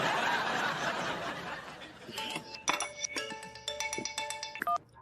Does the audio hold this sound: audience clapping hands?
no